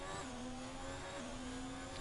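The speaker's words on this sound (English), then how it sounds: "Keeps it in 6th gear. Lets the engine rev." Racing car engine in a sim racing game held in 6th gear at Baku, droning at high steady revs with a continuous whine throughout, loud and unbroken.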